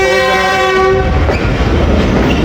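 The 48 Down Rehman Baba Express pulls into Rawalpindi railway station, with a loud, sustained horn blast giving way to heavy rumbling and the clatter of wheels, close and steady.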